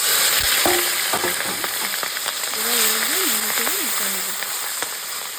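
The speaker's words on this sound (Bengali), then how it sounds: "তেল কিন্তু গরম হয়ে গেছে এখন কিন্তু দিয়ে দেব সেই শুকনো মাছটা" Dried fish frying in hot oil: steady sizzling and crackling throughout, with occasional stirring clinks, while a person speaks over the frying.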